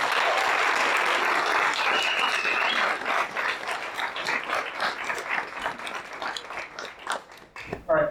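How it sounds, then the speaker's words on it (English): Applause from a demo day audience starts as a full, dense burst of clapping, then thins into scattered individual claps before fading as a voice begins to speak. "Let's give them a round of applause."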